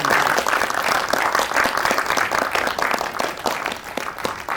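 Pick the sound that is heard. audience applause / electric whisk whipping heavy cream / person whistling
audience applause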